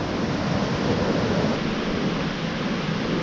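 Floodwater rushing down a river swollen by Typhoon Odette, a loud, continuous roar with no voices.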